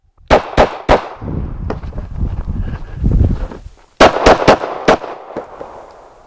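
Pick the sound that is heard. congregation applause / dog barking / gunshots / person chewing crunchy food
gunshots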